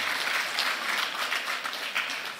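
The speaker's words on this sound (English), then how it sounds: "the organizers deserve a round of applause from us" Audience applause at a national mining conference, a steady wash of many hands clapping that fills the whole stretch at moderate level, with no voices standing out.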